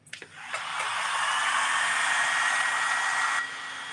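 A hair dryer blows on a freshly made Christmas tree ornament: a few handling knocks, then a loud, close, steady whooshing whir for about three seconds before it cuts off, with no talking.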